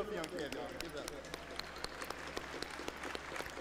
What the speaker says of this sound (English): Reluctantly, the crowd clapped to make it not awkward.